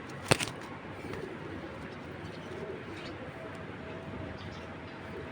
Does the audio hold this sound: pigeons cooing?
yes